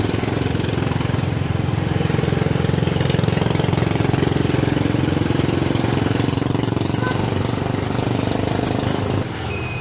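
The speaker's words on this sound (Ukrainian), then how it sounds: "Трайцикли тут тюнінговані, не на жарт. Ми оце теж в такому їдемо." A motorized tricycle's engine drones loudly and steadily from close by while riding, a constant rough rumble that eases slightly near the end.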